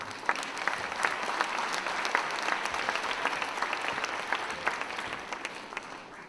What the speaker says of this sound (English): So first of all, a big applause for the two special,